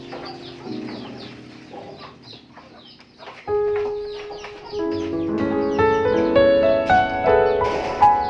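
Chickens on a goat and sheep farm cluck repeatedly near the spot where their water is set out, with short broken calls in the first half and a louder, busier stretch of overlapping clucks and calls toward the end.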